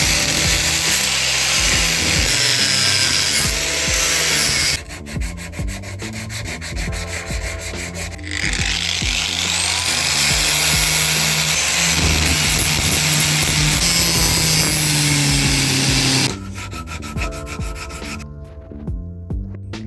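Panhard rod tube yokes being cleaned up with an abrasive tool before welding: a loud, continuous grinding rasp with shifting pitch and a couple of brief pauses, close up and with no voices.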